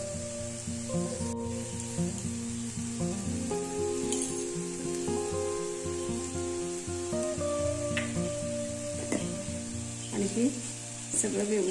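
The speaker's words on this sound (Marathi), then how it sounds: "सगळं व्यवस्थित मिक्स करून घेऊया" Kantoli (spiny gourd) mixed with chili masala and salt in a hot pan, giving a steady sizzle with occasional scraping stirs, beneath ongoing background music and a speaking voice.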